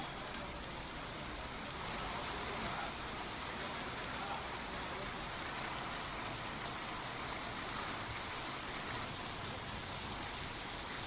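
Heavy rain pours down around Anekal near Bengaluru, flooding the roads, in a dense, unbroken hiss that stays steady and loud throughout, with no voices.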